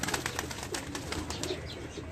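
A female racing pigeon coos softly on a rooftop, a short series of low, pulsing notes with faint rustling, close and quiet.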